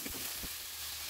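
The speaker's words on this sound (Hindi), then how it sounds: "टमाटर जो हैं भून चुके हैं, अब इसमें डाल देते हैं दाल।" Tomatoes frying in a pan for dal, giving a steady broadband sizzle with a few soft stirring knocks at the start, close and fairly quiet, without talk.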